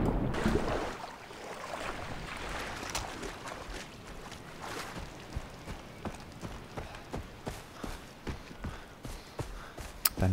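Boat ride in the video game Far Cry 3, a steady rumble of engine and water with rhythmic thumping as the hull slaps the waves, loud and continuous.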